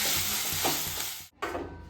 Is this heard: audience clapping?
no